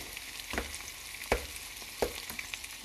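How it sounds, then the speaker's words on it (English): Spinach and onions sauteing in a pan for a breakfast omelet, a soft continuous sizzle with three brief stirring scrapes, quiet and close, without speech. "I'm making sauteed spinach and onions"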